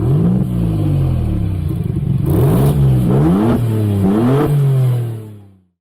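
A Maserati GranTurismo's 3-litre twin-turbo V6 revs repeatedly, rising and falling in several loud, close surges, then cuts off into silence.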